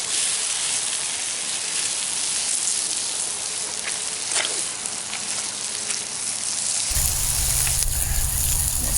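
Venison liver, bacon and onions fry in bacon grease with a steady, loud, close sizzle and crackle that fills the whole stretch, growing harsher near the end, with no one speaking.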